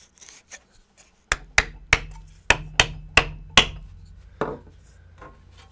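Sharp hammer blows drive a wedge into a cut in a tree: about eight loud, evenly spaced wooden knocks with short ringing decay, preceded by faint handling sounds and followed by one softer strike.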